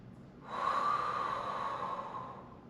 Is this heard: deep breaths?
yes